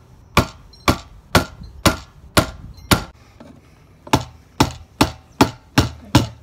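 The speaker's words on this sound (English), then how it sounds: "Yeah, just knock this ring back in." A hammer strikes a metal ring on a 2000 Chevrolet Silverado fuel pump, landing about a dozen sharp, loud, evenly spaced knocks with a brief pause midway, close up and with no talking.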